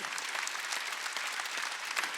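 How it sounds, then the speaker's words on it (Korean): Congregation applauding during a Korean church Sunday worship service, a dense, steady patter of many hands clapping together at moderate volume, with no talk over it. "믿으면 박수 치라"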